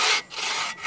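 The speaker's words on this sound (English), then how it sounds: "Sawing away" A bushcraft hand saw cuts through wood in quick, rasping strokes, loud and close, two back-and-forth pulls separated by short pauses.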